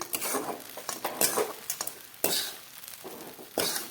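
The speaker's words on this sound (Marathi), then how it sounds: "हे कढईला असं खरवड अशी लागते" Sabudana khichdi is stirred in a kadhai, giving a series of close, uneven scraping strokes as the spoon drags through the sticky mixture against the pan over a faint sizzle.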